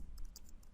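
A few quick, light key clicks from a computer keyboard being typed on, close by and fairly quiet over a low steady background hum.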